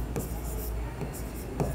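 Handwriting on paper during an accounting lesson, soft close pen strokes and faint scratches over a steady background hum, with a few brief taps.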